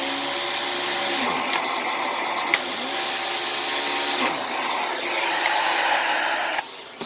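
A vacuum turbine power head, its brush spinning on a hard floor, gives a loud steady whirring drone throughout, with brief clicks and knocks as it is set down and moved.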